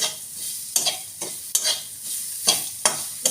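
Soybean chunks stir-fried with ginger, a low sizzle punctuated by five or six sharp, rhythmic spatula strokes scraping the pan, close and clear with no talking.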